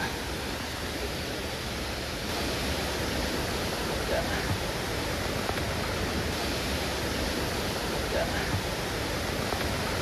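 The waterfall at Wawa Dam and Karugo Falls roars in a loud, steady, unbroken rush of white water heard from close by.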